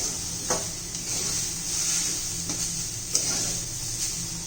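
Freshly grated coconut stirred and dry-fried in a pan over medium heat, a soft continuous sizzle with scraping sweeps of the spoon and a few light clinks against the pan, close and steady, with no voices.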